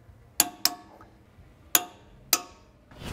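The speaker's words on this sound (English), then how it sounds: "Now we're gonna go ahead and torque the caliper carrier bolts to 90 newton meters." Torque wrench clicking as rear brake caliper carrier bolts on a 2015-2020 Audi S3 are tightened to 90 Nm, four sharp metallic clicks in two pairs, close and loud with quiet between.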